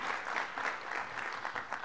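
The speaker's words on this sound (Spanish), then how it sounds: "les pido que demos un gran aplauso" An audience at a summit held at the United Nations in New York applauds the Hungarian government's ambassador and representatives, a dense, steady round of clapping that sounds fairly distant.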